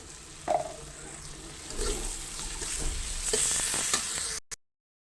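Ground meat spices, coriander, salt, dried and green chillies, fried onion, ginger and garlic sizzle in a pan for mixed meat bharta, with a steady frying hiss and a few spoon clinks and scrapes, no voices.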